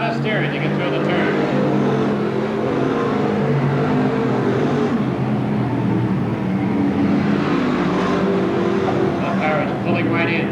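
Stock cars racing at Seekonk Speedway produce a continuous loud engine roar that swells and fades as they pass through the turn, with an announcer talking over it.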